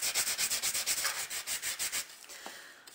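Hand sanding of embossed metal, a quick run of rhythmic scratchy rubbing strokes, close and clear, stopping after about two seconds and leaving only faint small sounds.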